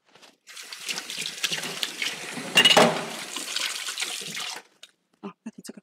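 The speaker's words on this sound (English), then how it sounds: "so we sprinkle some water." Water sprinkled by hand into a Thermomix to add steam while making traditional Teochew yam paste and pastries, a brief trickling splash that builds to a louder burst midway, with short knocks and clatter after it stops.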